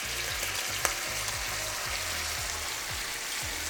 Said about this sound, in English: It's gonna sizzle, crackle.